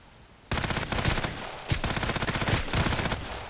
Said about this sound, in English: the sound of the Glock is nice